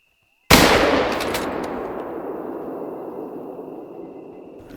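A single .270 hunting rifle shot in the hunting video game Call of the Wild, a sharp, loud crack after brief silence, followed by a long rolling echo that fades slowly over several seconds.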